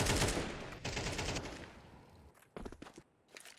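Rapid gunfire in a competitive ESEA shooter match, with a dense burst of shots at first, then sparser cracks and short volleys trailing off, with no voices.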